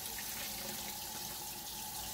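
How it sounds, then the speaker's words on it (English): Water pours steadily into a jar to rinse out fermented eggplant seeds, a continuous splashing gush running close and loud for the whole stretch with no voices. "I'll just keep adding water"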